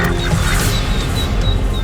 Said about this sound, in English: The mother is under attack and her ducklings are left defenceless.